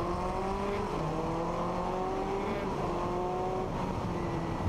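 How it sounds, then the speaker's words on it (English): A 1966 Gurney Eagle Formula 1 car's four-cylinder engine drones steadily at high revs on the Monaco circuit, with rising tones as it shifts through gears. "You hear that four-cylinder?"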